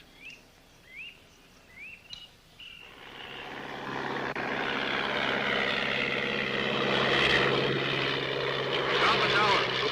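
A propeller airplane drones in flight over the Shungaro River in Peru, its engine swelling to a loud steady roar after a few chirping calls at the start.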